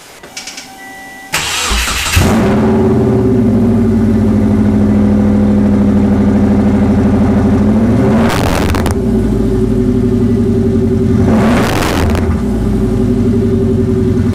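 A turbo-swapped Subaru Impreza running only a downpipe, with no catalytic converter or muffler, cranks and fires up loud and close, then settles into a raw, droning idle. Two sharp blips of revving cut through it.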